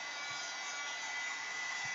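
A hair dryer blows steadily to dry paint on a handmade bag project, a continuous close, even airy whoosh with constant motor hiss and no talking.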